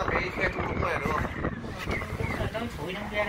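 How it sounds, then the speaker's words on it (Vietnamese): Wind gusts through a mountain valley gap near the Ngoa Van cable car in Dong Trieu, Quang Ninh, as a steady, rushing roar buffeting the microphone, with people talking over it throughout. "Gió rít đúng rồi, đây gió lắc này."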